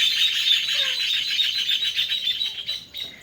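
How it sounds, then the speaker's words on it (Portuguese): Small birds chirping around a home, a steady bed of high, busy twittering and tweets carrying on continuously at moderate volume without any voices. "Olha os passarinhos."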